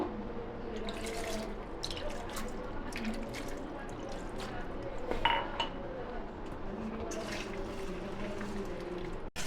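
Water poured into a pot of small fish curry being mixed, a close, continuous splashing trickle with light clinks of the pot and utensil, no voices.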